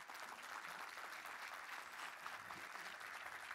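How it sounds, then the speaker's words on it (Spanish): Audience applause at a RootedCON security conference talk, steady sustained clapping from a seated crowd, moderately distant and even in level. "un aplauso para Manu"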